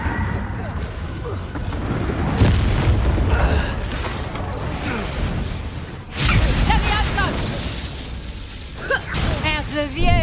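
Spell explosions from Bombarda, Incendio and Confringo blast repeatedly during Hogwarts Legacy combat, several loud booms and crackling bursts layered with shattering debris and effects, with voices shouting over the chaotic action.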